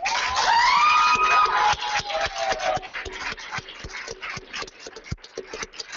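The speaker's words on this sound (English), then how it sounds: "Let's have a huge round of applause." Audience applause and cheering at a newsletter launch during a First Frame 2014 event, a loud burst of clapping that fades into scattered claps.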